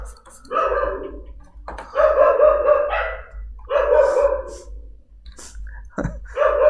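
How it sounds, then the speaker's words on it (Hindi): A dog barks in loud, close bursts, several sharp barks separated by short pauses, against a quiet indoor background. "लो भाई, कुत्ता पागल ही हो गया, है ना।"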